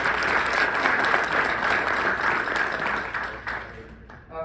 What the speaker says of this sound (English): Quick round of applause for our new venue,